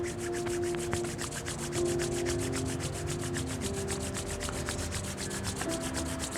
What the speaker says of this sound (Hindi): अभी दोनों हाथों को रब करें।